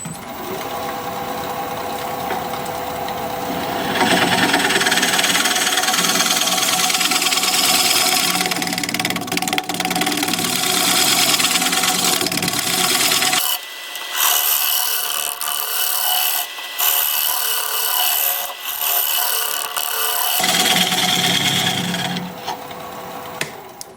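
An apricot wood blank is shear scraped on a wood lathe, giving a steady, loud, buzzing scrape that runs for long stretches. The scraping breaks off midway and leaves a thinner whirring tone before the cutting resumes.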